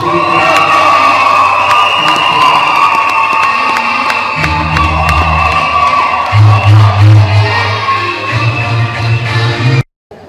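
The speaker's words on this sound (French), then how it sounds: "Applaudissez pour Apollinaire." Wedding guests cheer and shout for the groom Apollinaire, a loud, lively crowd roar with whoops and high children's voices that swells midway and cuts off abruptly near the end.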